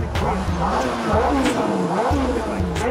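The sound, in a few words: Ferrari sports car engine revving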